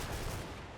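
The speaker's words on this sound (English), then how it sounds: "here comes the incoming fire from there" A short burst of incoming gunfire in Combat Mission Red Thunder, a dense rumbling crackle of shots at steady loudness throughout.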